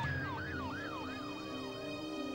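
An ambulance siren wails in a rapid rising and falling yelp as the vehicle drives against traffic in West Los Angeles, loud and steady over a low engine hum, with no voices.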